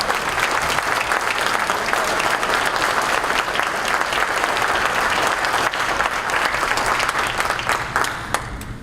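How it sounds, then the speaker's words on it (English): A large audience gives a loud, dense round of applause for a speaker at an evening event, a continuous roar of clapping that holds steady for nearly nine seconds before thinning slightly at the end. "Give him a big round of applause."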